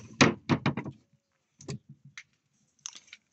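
A door at the back rattles close by, giving a cluster of sharp clattering knocks, then a pause and a few softer scattered knocks and bangs.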